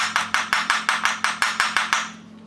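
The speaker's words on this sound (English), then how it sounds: "This is why we use a flat hammer." A flat hammer taps a shaft seal retainer flush into an aluminum casting, about a dozen sharp metallic strikes at an even, quick rhythm, close and clear, then a ringing fade.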